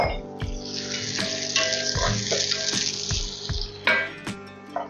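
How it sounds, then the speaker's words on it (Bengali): Onion sautés in a pan for a fish stew, giving off a steady, close sizzle with a broad hiss. Occasional clinks and stirring knocks from the pan break in throughout. "পেঁয়াজটা সামান্য সতে করব"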